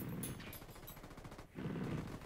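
A Honey Badger rifle in Ghost Recon Wildlands fires a quick run of single shots, with soft, muffled reports close together and a brief gap near the middle.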